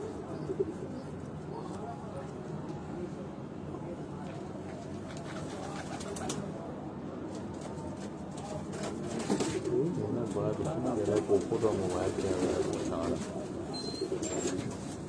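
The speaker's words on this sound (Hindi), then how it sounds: "ये लाल परी ब्रीड का ये कबूतर" A Lal Pari breed pigeon coos in low, repeated murmurs close by, while someone talks over it and other birds chirp faintly.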